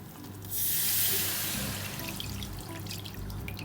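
Hot milk is poured into a stovetop cheese sauce for baked macaroni and cheese: a sudden close gush of liquid that swells, then settles into a softer, steady splashing pour.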